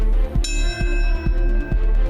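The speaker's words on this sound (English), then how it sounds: "The bell tolls, marking the moment the first plane hit the World Trade Center" A memorial bell tolls at a September 11 remembrance marking the moment the first plane hit the World Trade Center: one clear struck ring with long lingering tones over a steady, pulsing low rumble.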